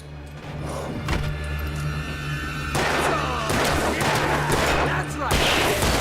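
Dense rapid gunfire in the Alan Wake video game, bursts of shots crackling one after another over a steady low engine-like drone, loud and continuous, no talk during the firing.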